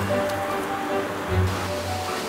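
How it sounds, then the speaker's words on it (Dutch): A large waterfall cascade at a water treatment plant pours steadily, aerating cleared, decalcified water with a broad, continuous rushing wash, close and loud, with a faint low hum beneath. "Eigenlijk gewoon een hele grote waterval."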